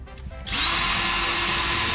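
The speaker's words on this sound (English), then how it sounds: "Drill some more relief holes here for when we cut." A power drill boring relief holes through a deck around a flue on a tiny cubic mini house build, spinning up sharply to a loud, steady high whine that holds close and alone.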